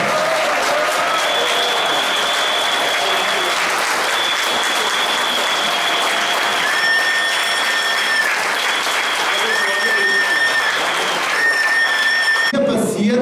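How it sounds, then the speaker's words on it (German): Sustained applause from an audience at a demonstration in Opponitz supporting the Ybbstal narrow-gauge railway, a dense steady wash of clapping lasting throughout, with whistle-like tones and voices mixed in. "So, bitte noch einmal einen Applaus, wenn es noch viel lauter wird, für Bruder Eckehard."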